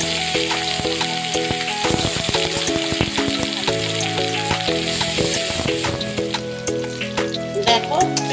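Chili paste sizzles and spits steadily in oil left over from frying egg and potato, a dense crackling fry that runs throughout beneath background music.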